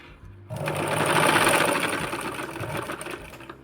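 A sewing machine stitches cloth in a steady, loud, close mechanical whirr that starts abruptly and runs continuously, easing slightly toward the end.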